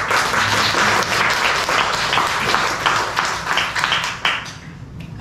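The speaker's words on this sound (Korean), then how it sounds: "같이 박수 한번." A church congregation applauds together during a Korean worship service after the choir's hymn, a dense, steady wash of many hands clapping that holds for several seconds before easing slightly near the end.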